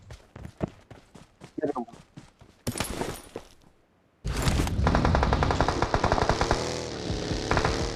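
PUBG Mobile gunfire comes in rapid bursts of sharp shots, first sparse and staccato, then a dense, loud sustained volley, while a player shouts briefly over the action.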